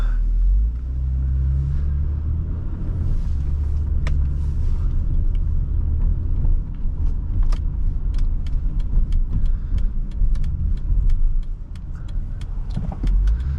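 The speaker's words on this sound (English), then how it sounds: "So setting off in this Acura MDX" A 2010 Acura MDX with a 3.7L engine pulling away, a steady low engine rumble and road noise from inside the cabin, with faint clicks and light rattles over the top.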